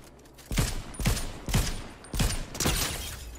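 Rapid gunfire in the video game Fortnite is aimed at the player, arriving as five loud, dense bursts spaced about half a second apart over a steady background.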